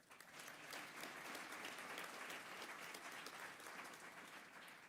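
An audience at the Eskom Expo ISF 2024 opening ceremony applauds the learners, a sustained, even wash of many hands clapping that sounds soft and distant.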